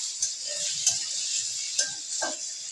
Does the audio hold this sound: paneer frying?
yes